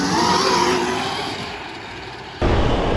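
110V electric go-kart launching from a stop, a loud, close whine and wind roar that builds, eases slightly, then jumps in intensity near the end.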